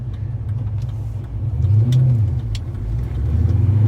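A 2004 Pontiac GTO cruises through South Carolina traffic, its engine producing a steady low rumble that swells slightly as it accelerates, heard from inside the car with no talk.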